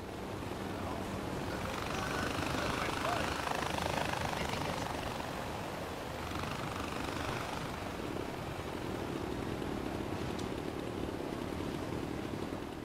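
A helicopter's steady rotor drone and engine whir fills a Far Cry 4 co-op game scene, holding at a fairly even, moderate level throughout with no speech.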